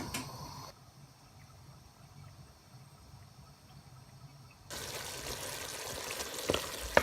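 Cooked rice is tipped out and drained, its water pouring off in a steady, moderately loud wash that rises suddenly after a quiet stretch and runs to the end, with a sharp clatter near the close.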